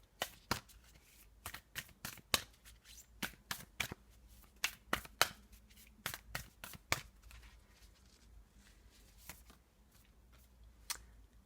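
Tarot cards are handled and shuffled up close: a run of sharp, irregular riffling snaps and flicks, dense at first and thinning out, quiet with no speech.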